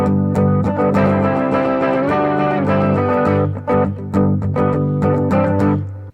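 Bo Diddley beat strummed on an electric guitar in open E tuning with a capo, played loud and steady through effects, with choppy rhythmic accents and muted scratches toward the end, no talking.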